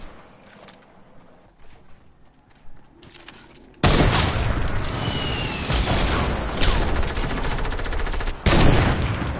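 Sustained rapid gunfire in Fortnite erupts after quieter scattered shots and clatter, a dense loud fusillade of automatic weapons lasting several seconds with brief dips.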